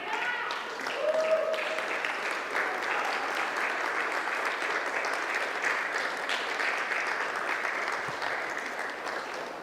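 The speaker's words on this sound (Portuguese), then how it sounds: "vamos aplaudir esse Jesus lindo" A church congregation applauds steadily throughout, a dense wash of many hands clapping at moderate distance with some voices mixed in.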